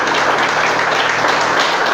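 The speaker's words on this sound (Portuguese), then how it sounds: "Pode aplaudir e glorificar" A church congregation applauding in a dense, sustained wash of clapping that fills the room evenly from start to finish.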